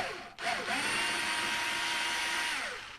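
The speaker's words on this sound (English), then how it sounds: "I went and picked up a little 4-volt driver here." A small 4-volt electric screwdriver spins up after a brief click, then whirs steadily and close for a few seconds before winding down, with no talk.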